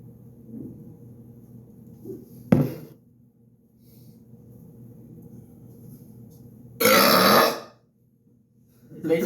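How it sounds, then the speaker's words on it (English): Loud, deliberate burping in a quiet room: a short sharp burp early on, then a long rasping belch lasting close to a second, with faint low murmuring between them. "I will be burping as loud as I can for 5 minutes straight"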